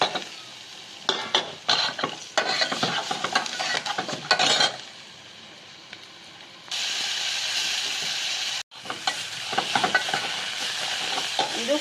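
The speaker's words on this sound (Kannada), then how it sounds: "ಇವಾಗ ಸ್ಟವ್ ಲೋ ಫ್ಲೇಮ್ ಮಾಡಿಬಿಟ್ಟು ಸ್ವಲ್ಪ ಫ್ರೈ ಮಾಡೋಣ" Cumin powder and spices frying on a low flame for pepper rasam make a close, continuous sizzle and hiss, broken by bursts of scraping stirring and pan clatter, with no one speaking.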